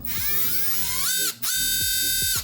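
A small electric cutting tool trims wires on a brushed ESC with a high, whining mechanical buzz, sustained with a brief gap and some clicking, close and fairly loud.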